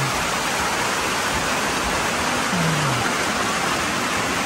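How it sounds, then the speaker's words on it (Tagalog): Heavy rain pours at night on a mountain, a dense, loud, unbroken roar of falling water filling the whole scene, with a faint voice briefly underneath. "Lakas ng ulan eh."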